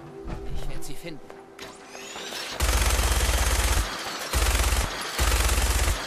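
Minigun in the game Fallout 4 firing in three long, loud, continuous bursts of rapid rounds, separated by short gaps, after a quieter stretch of game ambience.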